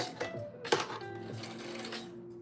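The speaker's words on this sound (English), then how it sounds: "I'm going to use the sewing machine" A Bernette sewing machine stitches a hoodie, giving a short run of mechanical clatter with a sharp knock near the start, heard close and alone.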